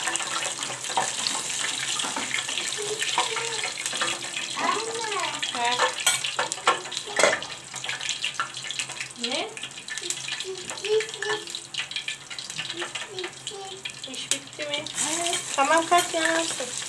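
Continuous sizzling crackle of food frying in a pan, steady throughout, with someone speaking intermittently over it.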